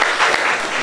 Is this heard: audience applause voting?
yes